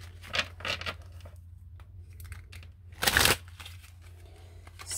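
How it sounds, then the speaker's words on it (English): Oracle cards being shuffled by hand, a few soft papery riffles and flicks with one louder burst near the middle, close and fairly quiet with no talking. "So pull a couple of these higher love oracle cards here."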